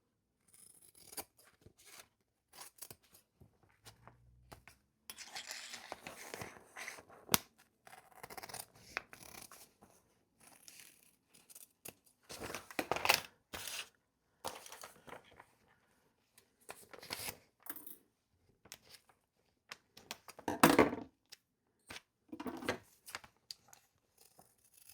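Sharp scissors snip through a fabric pattern piece for a zip-around travel wallet, a series of quiet, irregular crisp cuts and rustles scattered across the span, with no talking.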